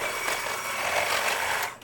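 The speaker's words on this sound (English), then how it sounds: "I'm just gonna take this KitchenAid electric hand mixer and I'm just gonna mix this until fully combined" A KitchenAid electric hand mixer beats butter and eggs in a bowl, giving a steady, close whirring drone with slight fluctuations and no talking.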